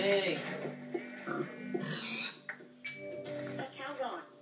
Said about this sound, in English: Ah, pig.